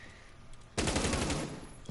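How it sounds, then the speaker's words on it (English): Gunfire in a Rainbow Six Siege match: after a quiet stretch a sudden loud burst of rapid shots rattles on for about a second, with another sharp shot at the very end. "those gunshots will give away his position"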